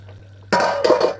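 A metal lid is set onto a cooking pot of Edo-style palm nut soup, giving one sudden close clatter followed by a brief rattling settle, loud against near silence.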